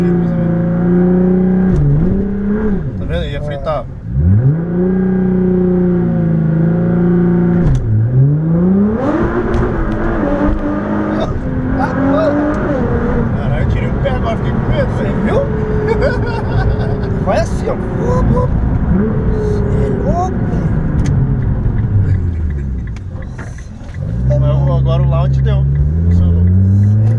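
A Nissan GT-R engine revs hard close by in a series of rising and falling sweeps, the loud roar surging and dropping several times.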